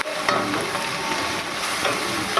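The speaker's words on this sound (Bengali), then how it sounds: "একটু ফ্রাই করে নেব, মোটামুটি ভালো মতো ফ্রাই করে নেব।" Prawns frying in a pan for gandharaj prawn pulao, a steady close sizzle with occasional stirring clatter, no voices.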